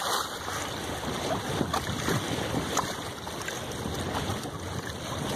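Steady wind rushes and buffets past the microphone while sailing a Hobie Mirage Tandem Island kayak on the York River, a loud continuous roar with faint water wash beneath and no talk.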